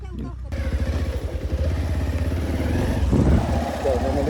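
A motorcycle engine runs nearby in a rural village on the way to a farm, its low, pulsing throb holding steady, with a voice briefly speaking over it.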